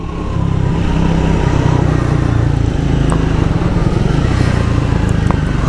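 A Triumph Speed 400 single-cylinder motorcycle engine pulls through gear changes, loud and close, with a continuous throbbing drone and slight rises and dips in pitch as it runs.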